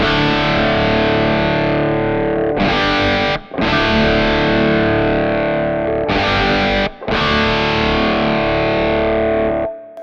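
Distorted electric guitar played through a Kemper Profiler with a low cut EQ engaged plays long, loud sustained chords, interrupted twice by quick choppy strums and short breaks, with no one speaking.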